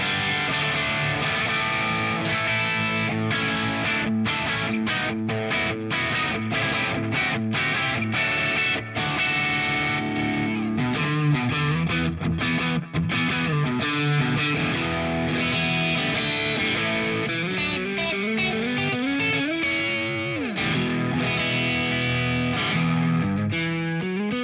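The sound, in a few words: electric guitar with distortion in humbucking pickup positions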